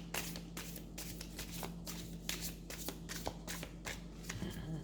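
A deck of playing cards being shuffled by hand, repeated riffling bursts and soft card slaps in a steady rhythm, close and clear with no talking.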